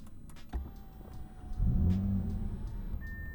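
A 2020 Audi S7 engine fires up after a few faint clicks, catching with a deep, close rumble and brief rev that settles into a steady idle, with no talking.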